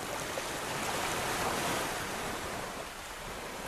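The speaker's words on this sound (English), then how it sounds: "A little bit rougher than the West on the waves that hit the shoreline" Rough ocean waves wash steadily onto the shoreline at Dover Beach, Barbados, a continuous loud surf roar with gentle swells and some wind, with no voices.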